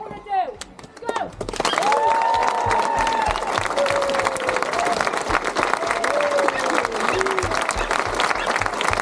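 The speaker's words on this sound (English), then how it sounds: "Clap, cheer, hurrah, whatever you want to do." A large crowd at the start of a parkrun on a hard-surfaced course applauds steadily and cheers, sustained and loud after a brief spoken opening, with whoops and shouts rising over the clapping.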